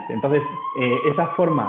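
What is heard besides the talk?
emergency vehicle siren, ambulance or police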